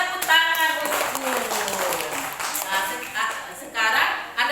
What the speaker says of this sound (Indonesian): Tepuk tangan untukmu.